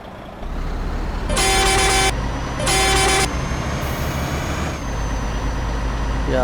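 Truck horn on an Ashok Leyland truck in Euro Truck Simulator 2, two loud sustained blasts over a steady engine drone, close and clear with no talking.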